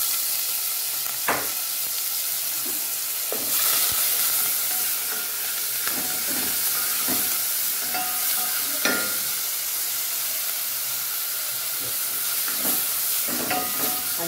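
Sliced onions fry in hot oil for a Nigerian meat pie filling, a steady broadband sizzle running throughout with occasional clicks and scrapes of stirring, close and moderately loud.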